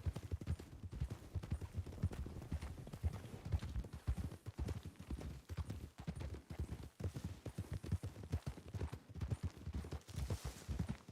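Horse hooves clip-clop steadily at a moderate pace in a Red Dead Redemption 2 roleplay game, with a continuous rhythmic thudding of footfalls heard alone and fairly quiet.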